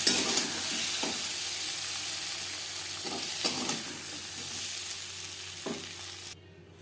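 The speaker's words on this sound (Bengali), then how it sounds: "পটল ভেজে নেওয়া কড়াইতে আবারও তেল দিয়েছি। দিয়ে দিলাম সামান্য পরিমাণে গোটা জিরে।" Whole cumin seeds hit hot oil in a kadai just used for frying pointed gourd, giving a loud, continuous hiss and sizzle with a few faint clinks. The sound cuts off abruptly near the end.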